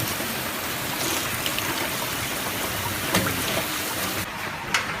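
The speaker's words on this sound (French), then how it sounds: "le temps pas trop bon, hein, la pluie tombe" Steady rain falls outdoors in a continuous dense hiss with occasional louder patter, near and even throughout, with no one speaking.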